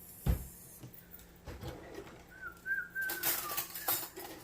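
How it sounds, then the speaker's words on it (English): A person whistles a short, wavering tune, faint and thin, with a few soft knocks and clatters around it, in a kitchen while chili simmers. "I got a habit of whistling."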